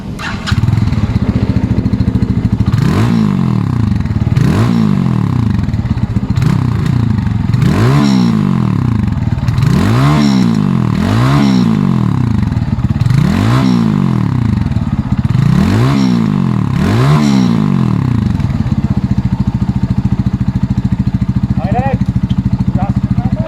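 A fuel-injected SKYGO Magnus 200 motorcycle idles close by and is revved about a dozen times in quick, rising-and-falling bursts before settling back to a steady idle.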